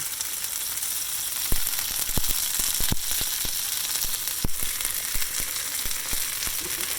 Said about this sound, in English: I want to saute it, not fry it.